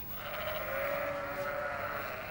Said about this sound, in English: Can you hear all the different noises the animals are making?